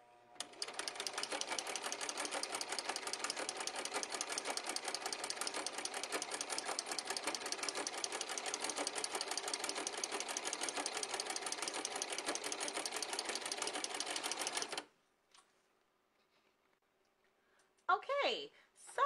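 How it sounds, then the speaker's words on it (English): Sewing machine fitted with a ruffler foot on setting 6, stitching ruffles in a steady rapid mechanical clatter for about fifteen seconds, then stopping before a brief voice. "the sewing machine made 6 stitches, then a ruffle, 6 stitches, then a ruffle"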